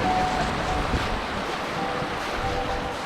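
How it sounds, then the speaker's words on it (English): A rough, brown meltwater river rushes past close by in a broad, steady roar, with wind buffeting the microphone. "the water, you can actually hear it rushing through there"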